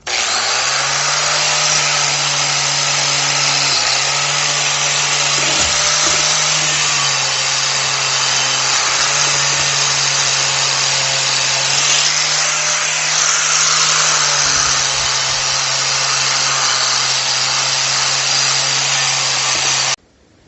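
The inside of a cast iron pot being sanded with 60 grit sandpaper on a power tool, giving a loud, steady whirring motor drone with an abrasive hiss for about twenty seconds before cutting off, close and without speech.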